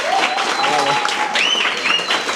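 An audience at a Turkey vs Syria sparring match applauds steadily, a dense wash of clapping and crowd noise that holds throughout, with voices and some whistling tones rising over it.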